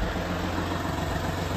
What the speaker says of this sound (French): ça fait ce petit bruit caractéristique. Du 3 cylindres qui s'estompe après quand elle roule.